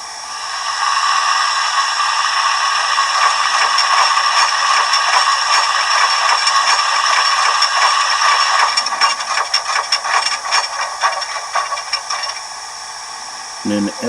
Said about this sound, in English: And we have F28 as a sanding valve.